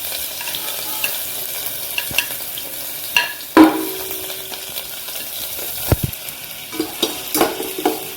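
Chopped ginger and garlic sauté in hot oil for a chicken stew, giving a steady close sizzle broken by the scrape and clatter of a spoon stirring the pan, with a few sharper knocks along the way.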